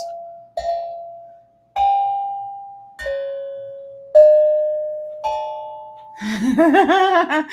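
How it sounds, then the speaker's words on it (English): Five single strikes on a metal drum, each a clear ringing tone that hangs and slowly fades like a singing bowl, followed by a short burst of laughter. "Metal drum for me to relax."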